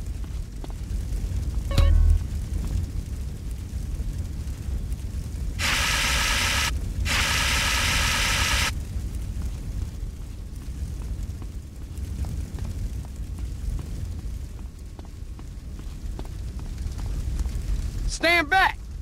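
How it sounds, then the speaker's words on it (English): Fire roars in GTA San Andreas, with two loud, hissing whooshes of flame close together midway and a low steady rumble throughout, while people talk over it. "Don't touch that fire, CJ."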